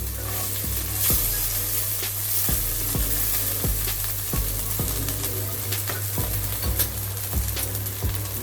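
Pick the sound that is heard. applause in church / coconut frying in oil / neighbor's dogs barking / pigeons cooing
coconut frying in oil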